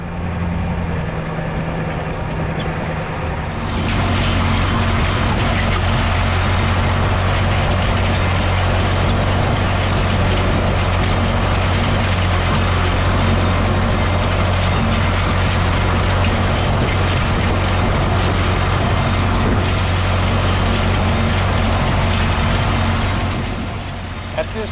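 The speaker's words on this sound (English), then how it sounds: "I'm real happy with the way the tractor is running" A Ford 6610 farm tractor engine, fitted with a metal air intake elbow, runs steadily at a constant throb, close and loud throughout, after a brief quieter start.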